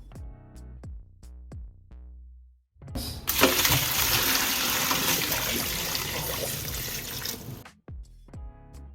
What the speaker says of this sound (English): so I'm going to go ahead and drain the kale.